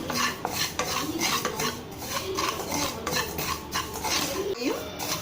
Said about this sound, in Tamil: ஒவ்வொரு பொருளாக போட்டு எண்ணெயெல்லாம் போடக்கூடாது, சும்மாவே தான் வறுக்கணும்.